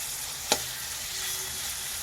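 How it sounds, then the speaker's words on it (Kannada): Chopped onions sizzle with salt in a pan, cooked as the base for a fenugreek-leaf palya; a steady, close frying hiss runs throughout, broken by one short sharp click near the start. "ಈರುಳ್ಳಿ ಚೆನ್ನಾಗಿ ಫ್ರೈ ಮಾಡ್ಕೋಬೇಕು. ನೋಡಿ, ಈರುಳ್ಳಿ ಬೇಯ್ತಾ ಇದೆ."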